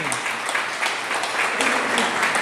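A church congregation breaks into loud, sustained applause, many hands clapping together in a dense continuous patter that holds steady throughout, with faint voices underneath.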